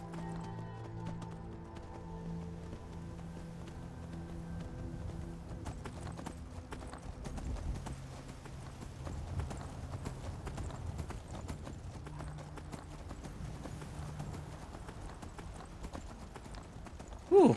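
Steady clip-clop of horse hooves galloping in Skyrim at a quick, even pace, with a soft ambient background and a sharp burst at the very end.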